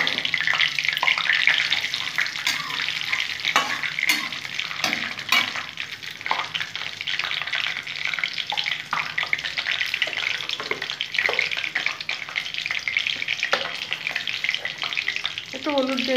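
Whole spices (bay leaf, four cardamom pods, cloves and cinnamon) frying in hot oil for a vegetarian jackfruit curry, a continuous close sizzle with occasional stirring scrapes and no talk.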